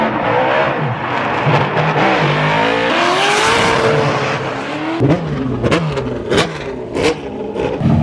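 Drift cars, including a 1300 hp 2024 Mustang, roar and rev nearby with shifting engine pitch, squealing tires as they slide sideways through corners, and sharp bursts of revving toward the end.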